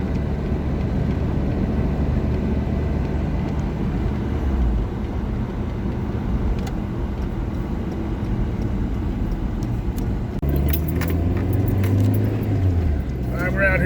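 A 1998 Toyota Tacoma 4x4 pickup with a 2.7 L engine drives along a main road, its steady engine and road rumble holding throughout, rising somewhat louder toward the end as it gets up to speed.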